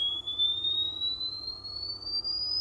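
A smartphone function generator produces a pure sine tone that holds steady and slowly glides upward in pitch, heard alone over faint background hum.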